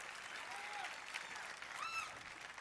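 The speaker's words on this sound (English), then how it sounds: "Hold for applause." Applause from a crowd at the Bethesda E3 press conference, a steady wash of clapping at moderate volume, with a few faint whistles rising above it.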